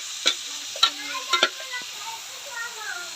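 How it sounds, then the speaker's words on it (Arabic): Chopped onions dropped into hot Egyptian ghee for stuffing, giving a few sharp scraping stirs followed by a soft, steady sizzle, close by and fairly quiet, with nobody talking. "حطيت سمنه بلدي انزل عليها دلوقتي بالبصل المفروم"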